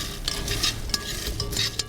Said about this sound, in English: We're roasting the shell and the pine nut inside.